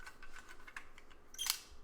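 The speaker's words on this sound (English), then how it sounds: "Watch the shutter go here." A Brownie Hawkeye camera's shutter fires once, a quiet mechanical click near the end following faint handling clicks, with no talking.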